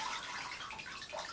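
Water pours over dry orchid potting mix to moisten it and rinse the dust through, a soft continuous hissing trickle, quiet and close with no talking.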